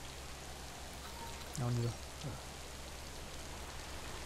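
Steady rain hisses across the whole stretch in the video game Death Stranding, with a constant low hum underneath, while a voice speaks briefly in the middle.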